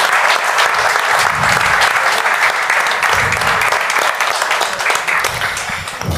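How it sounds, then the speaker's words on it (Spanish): Dense, close audience applause for the artist Paco Aguilar at a Lunares Pimpi interview event, loud and continuous for several seconds with a faint low murmur beneath, easing slightly toward the end. "yo te voy a pedir un aplauso ahora"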